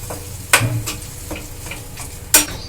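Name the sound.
stirring and frying capsicum chop filling in a pan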